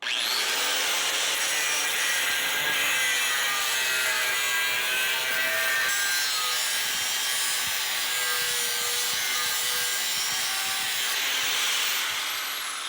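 Steady back-and-forth sawing through the front of a 1976 Ford F100, close and continuous for several seconds, with a rasping, scraping texture and no talking.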